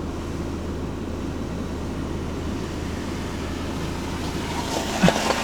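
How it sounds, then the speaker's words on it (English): A rental car rolls through a river crossing, giving a steady rushing, churning wash of water and engine noise heard from inside, with a small knock near the end and no talking. "Pretty standard practice to just drive through the river."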